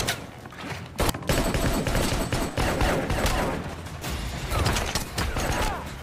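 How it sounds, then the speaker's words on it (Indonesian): Dense gunfire in an action film gunfight, rapid overlapping shots and bursts with mechanical clatter, loud and continuous, mixed with film sound effects. "Aksi tembak-menembak pun terjadi di tempat itu."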